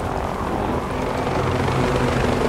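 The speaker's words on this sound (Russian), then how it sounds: "Вертолет быстрее нас летит вниз." Steady, loud rotor thrum of a helicopter descending in the video game Ghost Recon Breakpoint, a continuous low churning drone with no break.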